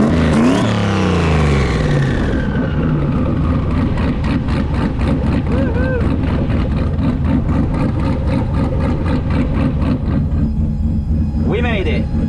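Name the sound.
drag race car engine running and revving at raceway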